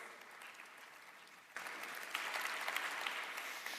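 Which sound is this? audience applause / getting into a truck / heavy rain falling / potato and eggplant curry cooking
audience applause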